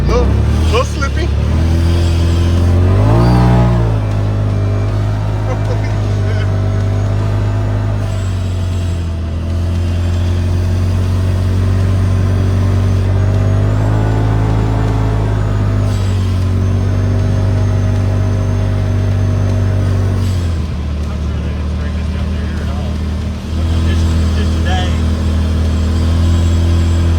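A street-legal Polaris RZR drives through a North Carolina snow storm on unplowed, slippery roads, its engine a close, steady drone that rises and falls in pitch with throttle changes throughout.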